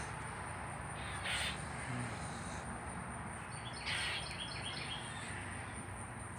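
Two pet parakeets give faint, brief chirping calls, twice in short bursts, over a steady hiss in an otherwise quiet room.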